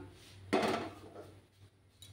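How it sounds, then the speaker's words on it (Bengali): A metal pan set down on a lit gas stove, one sharp close clatter followed by a brief fading ring and a faint second knock, with no voices. "এবার আমি একটা প্যান বসিয়ে দিলাম।"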